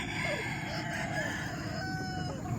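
A rooster crows in the distance amid steady background noise, a drawn-out call with faint clucking around it.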